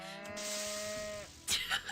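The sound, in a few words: cow mooing in a video game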